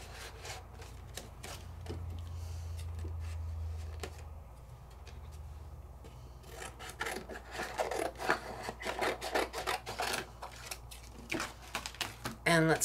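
Embossing folder cranked through a manual embossing machine for 3D embossing, a low grinding roll followed by rapid ratcheting clicks and rubbing, close and fairly quiet, with brief talk.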